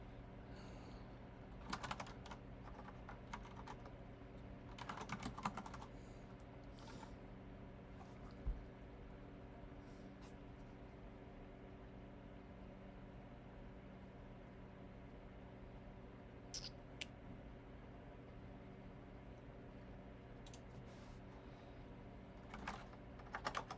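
Someone types code on a computer keyboard, with sparse, quiet key clicks in short bursts and long gaps over a low steady hum, and nobody speaks.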